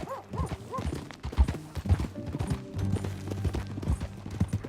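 A ridden horse's hooves clip-clop in an uneven walking rhythm, close and moderately loud, with a brief snort or whinny-like sound near the start.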